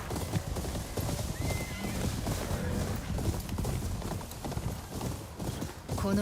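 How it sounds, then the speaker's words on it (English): Horse hooves clip-clop steadily beneath a neighing whinny in the video game Ghost of Yotei, close and clear, with game voices and ambient sound underneath. "Hey, that's my horse!"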